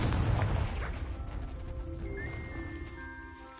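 A Confringo spell blast in Hogwarts Legacy lands as a heavy explosive boom at the start and then fades into a rumbling, crackling tail with faint ringing tones, fairly quiet overall.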